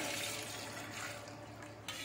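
A jug of cold water pours for sweet panipuri water, a steady close splashing gush that runs about two seconds before easing off, with no talking.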